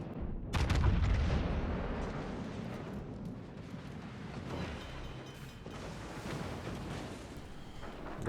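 Naval guns firing in the warship video game Kremlin, with heavy booming blasts up front and a continuous rumbling, crackling wash of battle noise behind them.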